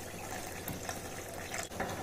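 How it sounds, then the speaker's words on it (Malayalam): Water is poured into beaten curd with salt while making simple curd rice, giving a steady, close splashing trickle of liquid that runs without pause for about two seconds. "പാകത്തിന് വെള്ളം ഒഴിച്ചു കൊടുക്കുക"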